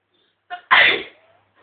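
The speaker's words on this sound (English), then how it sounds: "That's how to do non-stop sneeze." A single person gives one loud, close sneeze, with a short intake of breath just before it, then the sound trails off into quiet.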